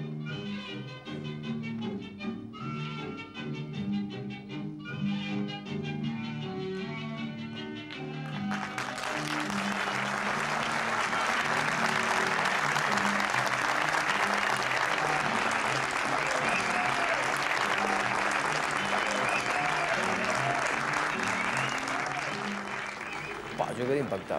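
A film premiere audience breaks into loud, sustained applause after a quieter musical opening. The dense clapping swells and holds for many seconds before easing slightly near the end.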